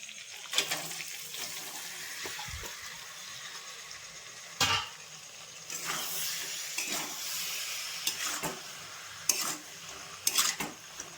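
Boiled peas and potatoes go into a pan of frying mutton for Purulia-style meat ghugni: a soft, low sizzle with scraping stirs and several sharp clinks of a utensil against the pan, no voices.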